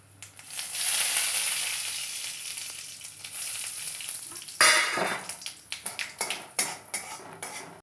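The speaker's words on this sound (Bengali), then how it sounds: "কড়াই গরম হয়ে গেছে এবার আমি কালো জিরেটা দিয়ে দিচ্ছি" Nigella seeds dropped into hot oil in a heated wok give a steady loud sizzle, then a sharper burst of frying with a run of metal stirring clinks and scrapes, close up and with no talk.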